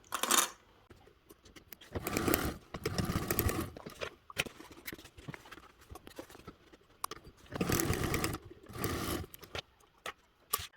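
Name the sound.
sewing machine top stitching along seams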